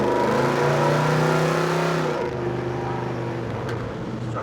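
A Chevy Apache short bed pickup truck engine revving hard, a loud rising drone that climbs in pitch and then eases into a lower steady run, heard close up.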